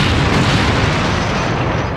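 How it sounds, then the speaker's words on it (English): A film explosion effect of a ship blowing up from the movie Critters: a loud, dense, sustained roar of blast noise that fills the whole two seconds with no pause and eases off only slightly at the end, heard alone with no talking. "So good they used the exact same one for when the ship blows up."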